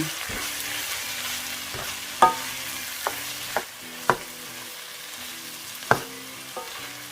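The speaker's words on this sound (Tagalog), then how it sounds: "isunod na po natin igisa ang ating hipon" Shrimp sizzle in a hot pan for Filipino ginisang mungo, a steady frying hiss punctuated by several sharp clinks of a utensil scraping and stirring against the pan.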